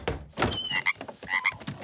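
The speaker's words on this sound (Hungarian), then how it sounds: "Jó sokat brekegett." A cartoon frog croaks repeatedly in short, bright, chirpy bursts with a loose irregular rhythm, close and clear with no talking.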